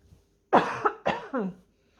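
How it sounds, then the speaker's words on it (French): Two sharp, close coughs in quick succession, each with a short rough tail, separated by a brief pause in an otherwise quiet room. "Toujours à tousser, hein."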